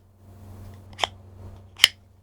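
A Ridge wallet snapping open, two sharp separate clicks about a second apart, close up and crisp against a quiet background hum.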